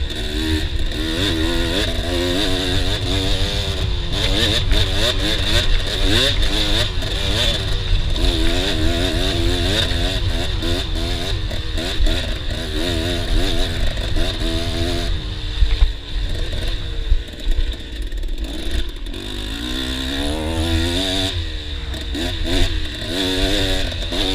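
Dirt bike engine revving hard through a motocross lap on a farm track, loud and close with constant throttle rises and drops, rider's voice talking over it.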